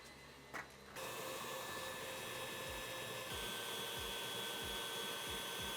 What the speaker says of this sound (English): now we're going to let this whisk for about 10 to 15 minutes until it gets nice and kind of will look like marshmallow